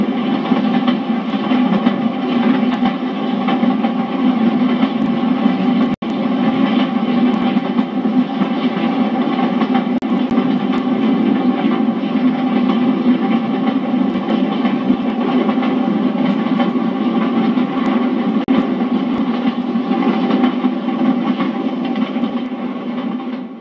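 A train rumbles steadily past, a continuous loud rolling drone of wheels and engine with faint clatter, sustained throughout without pause.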